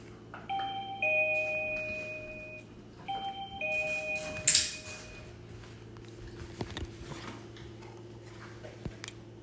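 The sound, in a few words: doorbell ringing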